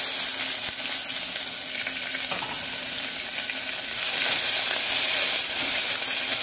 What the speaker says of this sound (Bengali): এবার এই কাটা পেঁয়াজগুলোকে দিয়ে দেবো।